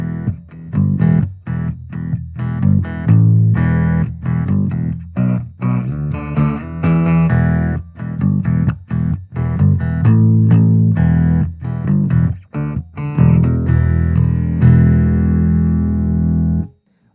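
A Chinese 12-string bass plays a steady run of plucked, buzzy notes with a thick, slightly distorted tone, continuous and up close, with short pauses between phrases.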